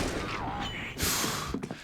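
Short bursts of rifle fire in a CS:GO professional match on the Inferno map, a few tight clusters of shots landing close and loud, with a sharp burst near the middle and scattered shots toward the end.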